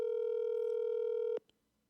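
A steady electronic telephone tone sounds continuously, close and clear, then cuts off abruptly followed by a faint click and near silence.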